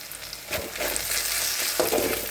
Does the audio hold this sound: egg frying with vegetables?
yes